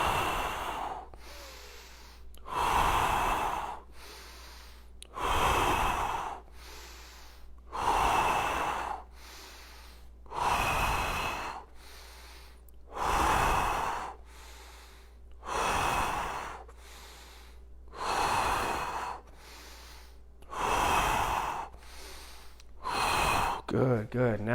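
Deep, audible exhales during a home workout while leaning back, repeated breaths in a slow, even rhythm about every two seconds, close and fairly quiet, with a voice talking between them.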